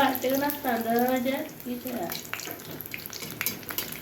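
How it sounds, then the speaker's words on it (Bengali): Luchi drop into hot oil and fry with a soft, steady sizzle, heard close, partly under a woman's speech at the start. "তেল একটু একটু গরম হয়েছে দেখেন তো লুচি তেলে ছেড়ে দিচ্ছি আমি"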